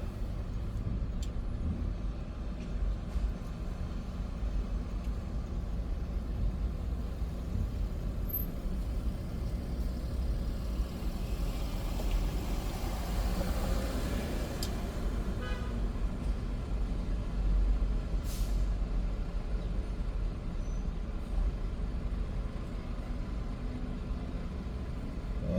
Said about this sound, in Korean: 서울 시내 저녁이 이렇게 막히더라고요. 차들도 많고